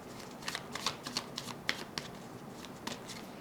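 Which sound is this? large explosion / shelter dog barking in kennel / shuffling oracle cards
shuffling oracle cards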